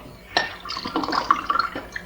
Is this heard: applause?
no